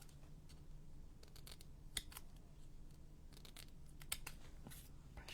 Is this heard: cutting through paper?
yes